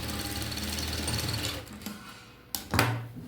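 Sewing machine stitching slanted tucks on the upper part of a one-piece dress, running in a fast steady whir that slows and stops partway through, followed by a couple of sharp handling clicks and a short final burst.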